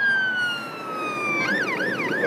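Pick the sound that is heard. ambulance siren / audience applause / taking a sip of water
ambulance siren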